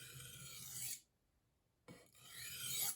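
A knife edge rasps across a Spyderco ceramic sharpening stone in two short bursts of dry, gritty strokes, separated by a brief silent pause, close and clear.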